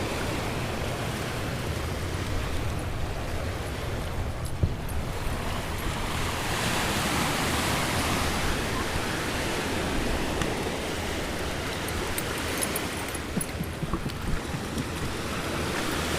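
Steady roar of ocean surf washing onto the shore, with broad rushing noise swelling and easing, mixed with some wind.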